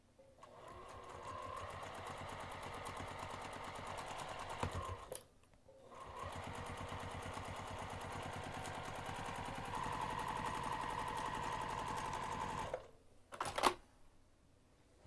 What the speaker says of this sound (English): let's take this over to the sewing machine